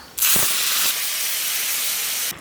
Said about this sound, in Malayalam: നമ്മൾ റെഡിയാക്കി വെച്ചേക്കണ കറി ഇതിലേക്ക് ഒഴിച്ചു കൊടുക്കാം